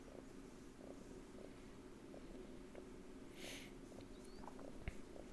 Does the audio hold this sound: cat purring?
yes